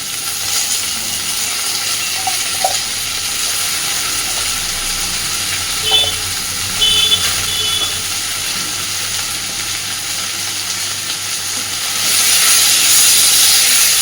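Green chillies and small potato pieces fry in hot oil with a continuous close sizzle, a few faint clinks partway through, and a louder surge of hissing near the end.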